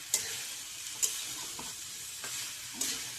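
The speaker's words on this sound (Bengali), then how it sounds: "এখন অনেকক্ষণ নাড়াচাড়া করে নিচ্ছে নাহলে ভালো রোস্ট হবে না কো" Chana masala being stirred and roasted in a pan, a steady hiss with a few sharp spatula scrapes spaced through it, no talking.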